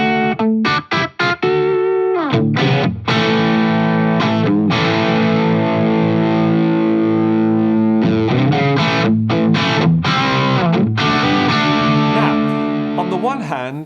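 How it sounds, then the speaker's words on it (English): An electric guitar played through an overdrive distortion pedal plays sustained, heavily overdriven chords and riffs, loud and distorted, with brief pauses between phrases. "that sounds like an overdrive distortion with nothing new there"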